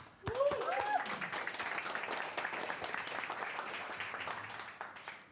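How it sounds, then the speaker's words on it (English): An audience at a tech talk on building local AI agents applauds a presenter taking the stage. Brisk crowd clapping starts abruptly and holds at a moderate level, with a brief tonal warble near the start. "A round of applause for Alejandro"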